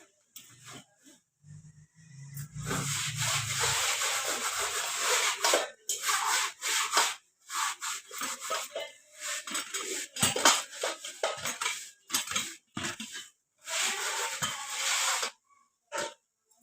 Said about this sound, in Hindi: सबसे पहले तो हम बास्केट धोते हैं बर्तन रखने वाली।